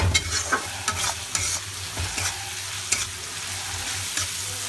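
Onions frying in a pan while bathua greens are cooked, a steady close sizzle with repeated scraping stir strokes, no voices.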